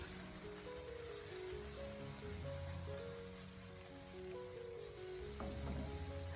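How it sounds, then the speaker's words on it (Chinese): Pork slices with bitter melon hiss and sizzle steadily in a hot wok while a spatula stirs in the salt and sugar seasoning, a dense continuous frying crackle with occasional light metal scrapes. "再继续用锅铲给它翻炒几下，把调料给它翻炒均匀"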